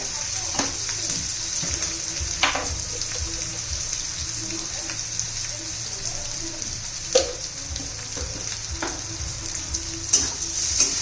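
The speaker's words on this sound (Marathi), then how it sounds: "ट्रान्सपरंट होईना इतकंच आपल्याला कांदा परतून घ्यायचा आहे" Onion sautéing in a pan, a steady close sizzle with occasional scrapes and clinks of a spoon stirring against the metal, continuing throughout without speech.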